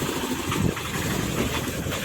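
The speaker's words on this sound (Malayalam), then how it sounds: "ഇതാണ് സ്പീഡ് ബോട്ട്." A speed boat engine idles with a low, steady rumble and throb close by at a jetty, continuous with no pauses.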